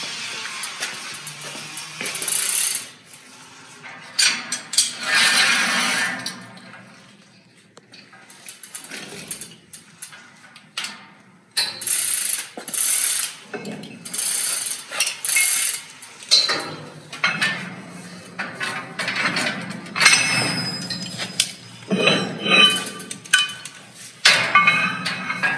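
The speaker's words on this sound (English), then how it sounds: "this is where we load the arbors with weights to counterbalance what we have on the batten" Metal counterweights are stacked one after another onto the arbor of a theatre fly tower, giving irregular clanks and clinks with brief pauses between loads and a dull rumble under some of them.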